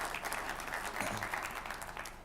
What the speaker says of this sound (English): please give a round of applause, you know, for Robert and his team